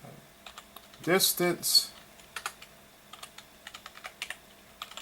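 Computer keyboard typing in irregular bursts of close, crisp key clicks, following a short spoken word.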